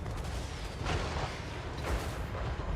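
Artillery and gunpowder weapons firing in a Total War Warhammer 3 battle, distant booms and cannon thuds rolling over a dense rumbling battlefield din, with a couple of heavier blasts standing out.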